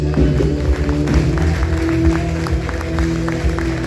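Church congregation applauding, with steady rhythmic clapping over a loud sustained organ or keyboard chord and a low hum, continuing evenly throughout.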